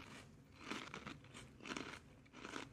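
Someone chews a crunchy keto bakery treat up close, with three loud bursts of crunching bites spaced about a second apart, each followed by brief quieter crackling.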